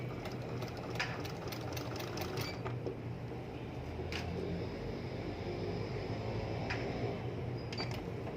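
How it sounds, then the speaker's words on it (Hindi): A sewing machine stitches trouser fabric in a continuous, fairly quiet whirring run, with a few light clicks and taps from handling the cloth. "अब आप सिलाई लगाएंगी।"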